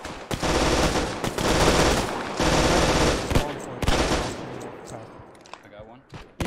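Automatic machine gun fire in the WWII shooter Hell Let Loose, near and loud in several long rattling bursts separated by short gaps, tapering off toward the end with players talking over it.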